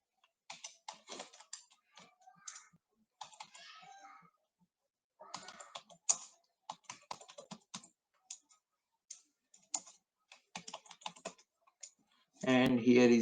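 Typing on a computer keyboard sounds as quick clusters of light key clicks in irregular bursts with short pauses, close and fairly quiet, ending in a louder burst of other noise.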